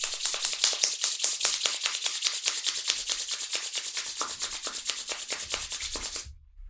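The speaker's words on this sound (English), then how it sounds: "Bring the palms together in the front of the body and rub them till they're hot." Palms rubbed briskly together to warm them during a yoga class, a steady rhythmic swishing of skin on skin that runs continuously for several seconds before stopping abruptly.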